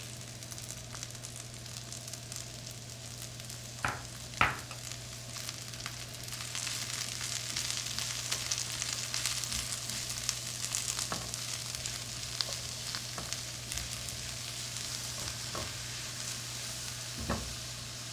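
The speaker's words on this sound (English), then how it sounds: "add the spinach and cook until the leaves are just wilted" Spinach and onions cooking in a pan, a quiet continuous sizzle with a low steady hum beneath and scattered light clicks and taps from stirring throughout.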